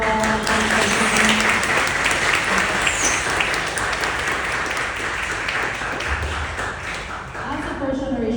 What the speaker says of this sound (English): Can we give another round of applause for Governor Paul?